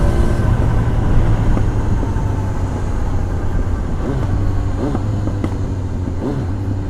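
A Kawasaki Z900 naked inline-four motorcycle with a GPR exhaust and dB killer runs close by, a loud, steady engine drone and hum that rises in a few short rev bursts, with no voices.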